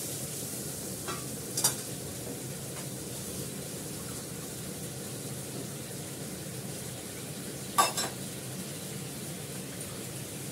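Fish and potato cook in a pan with green chilli under a low, steady sizzle, with two brief scraping stirs standing out, and no voices.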